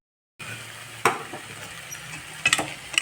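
Sweet prasadam for a Gokulashtami puja being stirred in a pan on the stove, with soft scraping strokes over a low steady sizzle and a few sharper clinks of the spoon against the pan near the end.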